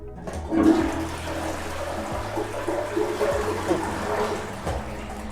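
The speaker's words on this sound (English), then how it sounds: "But with German toilets, when you flush it," A German household toilet flushes with a loud rush of water that drains straight down rather than swirling, and water keeps running and trickling steadily as someone talks over it.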